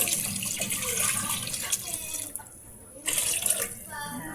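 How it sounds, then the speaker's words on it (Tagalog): Water pours steadily from a pitcher into a pot with a gurgling, rising fill, briefly easing before resuming, close by, with a voice faintly underneath. "Lagyan ko na ng tubig na isang pitcher."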